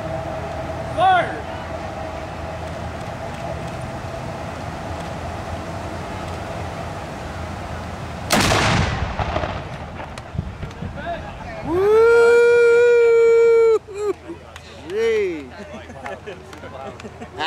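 A Revolutionary War cannon fires a gunpowder charge at a Fort Pitt Museum demonstration in Pittsburgh, one sharp, loud outdoor blast. Crowd noise runs before it and some high tonal sounds follow.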